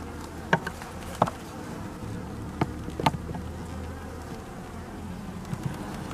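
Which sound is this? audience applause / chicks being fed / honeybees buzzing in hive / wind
honeybees buzzing in hive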